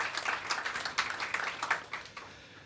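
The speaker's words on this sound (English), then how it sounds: "you deserve a round of applause for setting us on the right course yesterday" A small group at an academic conference claps in fairly quiet, steady applause that tapers off gradually toward the end.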